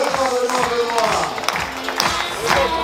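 Continuous crowd applause and clapping at a closing ceremony for Routes de l'Oise 2024 as the audience rises to applaud Benoît, with a voice speaking over the steady clapping.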